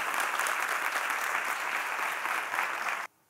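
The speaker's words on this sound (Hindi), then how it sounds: "तुम्हें ताली बजानी है थोड़ा बीच में" An audience claps steadily and densely for about three seconds, then stops abruptly, leaving near silence with one brief sharp sound at the end.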